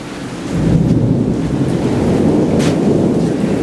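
An April thunderstorm rolls in, thunder swelling into a long deep rumble over a steady wash of rain, loud and sustained with no speech.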